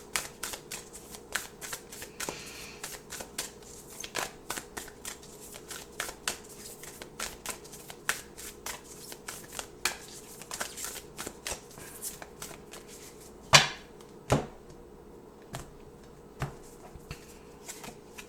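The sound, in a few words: shuffling oracle cards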